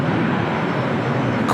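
An Asiana cargo jumbo jet, a Boeing 747 freighter at LAX airport, roars with a loud, steady broadband engine rumble that fills the whole stretch, heard close with no voices.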